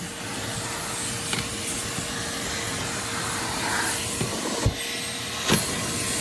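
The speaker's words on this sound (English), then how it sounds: "You can see it's got good suction. It'll try to pull up the carpet." Hart 16-gallon, 6 peak HP wet/dry shop vac running on carpet, a steady loud rushing suction roar with a few brief bumps and thuds as the nozzle is moved.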